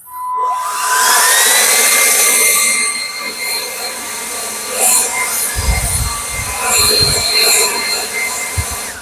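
An Anykit 20V cordless leaf blower running in normal mode across a leafy yard: a loud, close whirring rush that spins up at the start and holds steady, with some rustling and knocks later on.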